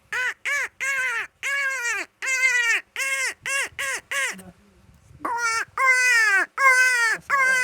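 A human voice imitates a crow cawing. About a dozen loud, harsh, rhythmic caws come in quick bursts with a short pause in the middle, close and clear with nothing else behind them.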